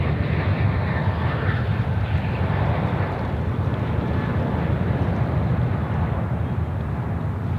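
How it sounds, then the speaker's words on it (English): An American Airlines jet departing Sydney Airport for Brisbane produces a steady, heavy low engine roar with wind buffeting, sustained and fairly loud throughout, with no talking. "The new service there, American Airlines flight, Brisbane."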